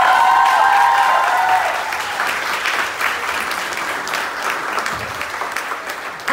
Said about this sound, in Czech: Zatleskejte jim, prosím.